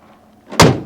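The door of a 1966 International Harvester 1200A pickup truck swings shut with a single loud, close metallic slam after a quiet moment of movement.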